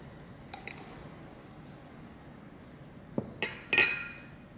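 A teapot clinks as wet yellow Amber Mountain tea leaves are lifted out: soft handling noises first, then a few sharp, close ceramic clinks near the end of an otherwise quiet stretch.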